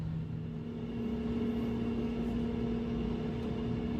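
Air fryer preheating at 200 degrees Celsius, a steady close-up motor and fan hum with a faint tonal whine that runs unbroken at an even level throughout.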